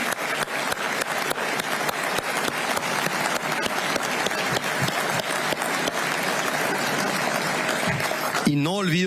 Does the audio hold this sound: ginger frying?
no